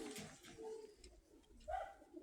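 Quiet cooing from Krymachky pigeons, including a blue-grey Crimean hen, comes as soft throaty murmurs with a brighter flutter near the end, faint and close in a small enclosure.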